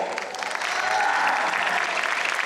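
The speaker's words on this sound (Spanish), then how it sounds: "quiero pedirles el gran aplauso para recibir desde Buenos Aires, Argentina, la tierra del tango" Loud, sustained audience applause at an international forum in Mexico, a thick, even patter of many hands throughout.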